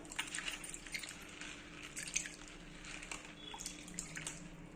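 About 100 grams of soaked chana dal is rinsed in water in a bowl, giving soft, quiet sloshing and a few light drips.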